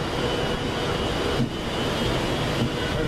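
Class 390 Pendolino electric train 390.122 pulls away from Penrith on a service to Edinburgh Waverley: a loud, steady broadband rush with a faint high whine, holding constant throughout.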